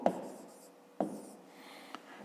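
A pen writes a math expression on paper, three short scratchy strokes spaced about a second apart, faint and close, with no voices.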